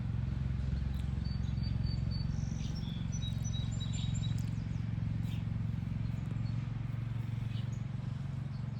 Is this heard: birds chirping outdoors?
yes